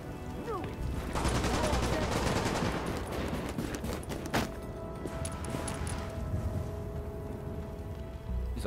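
Sustained automatic gunfire and rapid shots in The Division, loud and continuous bursts with a sharp crack around the middle, thinning out toward the end.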